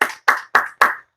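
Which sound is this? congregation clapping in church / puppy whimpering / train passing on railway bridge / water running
congregation clapping in church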